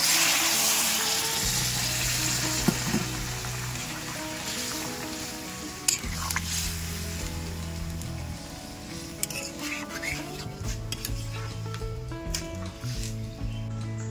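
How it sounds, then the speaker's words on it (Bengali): Hot water poured into sizzling potato and jackfruit curry cooked with goat fat sets off a loud, steady hiss and crackle that runs unbroken for the whole stretch, with a low bubbling undertone and a few sharp pops. "এই গরম জলটা দিয়ে দেবো"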